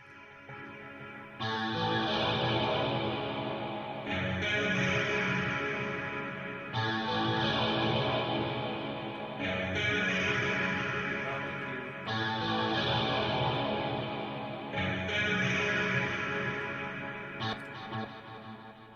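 A bright ambient synth in Reason 10.4 swells and repeats in long phrases, each bloom trailing into a dense, cavernous cave convolution reverb that washes over the next.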